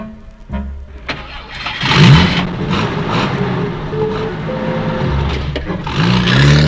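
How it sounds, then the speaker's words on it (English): A car engine starts and revs, then settles into a steady rumble as the vehicle pulls away, with rattles and clunks along the way. "Everyone was in the car, and they were off to their new farm."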